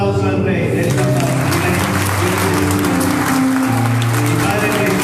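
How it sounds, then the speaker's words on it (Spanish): A church congregation claps together, a dense steady applause that fills the room, with sustained voices or music tones running underneath throughout. "Denle un aplauso al Rey, denle un aplauso."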